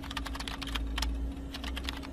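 Rapid typing on a computer keyboard in an animated cartoon, a close, busy stream of clicking keystrokes over a steady low electronic hum.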